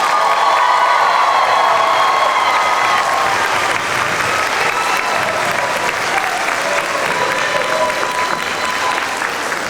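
A loud, sustained wave of applause from a large crowd at a high school graduation ceremony, dense clapping with scattered cheers and shouts lasting throughout.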